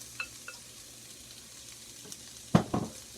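Egg roll filling mixed in a hot pan: a soft, steady sizzle with scattered scrapes of stirring, then a louder burst of clatter and scraping near the end.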